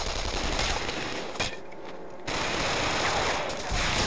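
Sustained Killzone 3 machine gun fire rattles loudly in long bursts, breaking off briefly for a moment before the rapid firing resumes.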